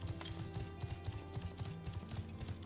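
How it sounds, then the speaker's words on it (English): A horse's hooves trot along in Final Fantasy XIV, a quick, even clip-clop rhythm repeating steadily and fairly faintly with no voices over it. "I think they'll hear me trotting in on my horse."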